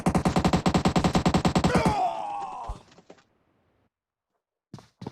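Rapid automatic gunfire in a battle royale video game, a fast evenly spaced burst of shots for about two seconds that breaks into a few scattered pops, then near silence with a couple of faint clicks.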